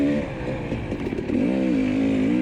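A carbureted KTM dirt bike ridden on a night lap around a course, its engine buzzing and rising in pitch as it accelerates, loud and continuous with rough harmonic drone.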